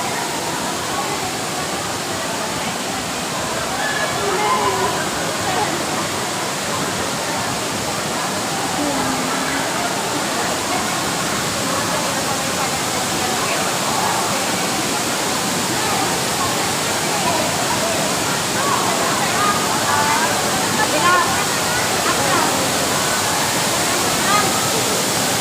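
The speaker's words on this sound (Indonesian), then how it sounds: "air terjun" Waterfall at a bird park in Singapore, a broad continuous rushing roar of falling water, steady and full throughout with faint voices mixed underneath.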